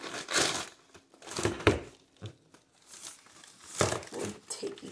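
Gemini Jets model airplanes are pulled from crinkly plastic wrap in several bursts of close crackling and rustling, with short quiet gaps between the handling sounds.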